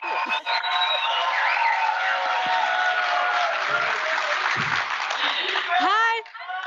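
A live audience applauding at a tech conference keynote, a sustained wash of clapping that runs steadily for several seconds, with a voice speaking over it and the clapping cutting off near the end.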